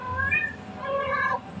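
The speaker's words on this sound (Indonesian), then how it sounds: "Kayaknya aku bawa kucing deh." A cat meows twice in quick succession, clear and fairly close, with a short pause between the two calls and no talking over them.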